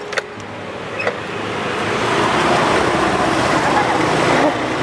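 A car pulls in to park on a street, a couple of light clicks and knocks at first, then a rising steady engine and tire rumble that holds close and loud before cutting off near the end.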